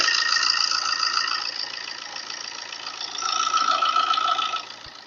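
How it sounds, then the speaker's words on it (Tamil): A steady engine of a seven-seat Chevrolet Enjoy idles with a smooth mechanical hum, rising slightly in the second half, no voices present. "இன்ஜினை ஸ்டார்ட் பண்ண சொல்லியிருக்கோம் இன்ஜினோட நாய்ஸை லைவாக கேளுங்க"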